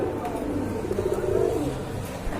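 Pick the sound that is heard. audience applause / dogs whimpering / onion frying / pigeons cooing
pigeons cooing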